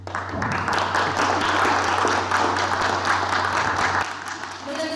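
Applause from an audience at a French press conference for the NFW King of the North tournament, a steady dense clapping wash over a constant low hum, easing off near the end.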